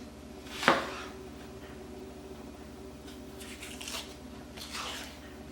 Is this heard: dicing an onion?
yes